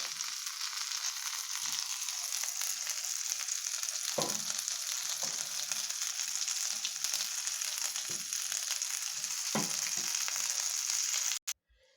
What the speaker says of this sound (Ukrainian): Підрум'янивши наші лапи до золотистої корочки, перевернула їх на іншу сторону, підсмаживши з обох сторін